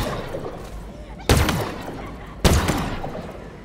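A weapon fires in the Halo Infinite campaign at Outpost Tremonius: two loud, sharp blasts about a second apart, each with a short booming tail, over a steady low game-world rumble.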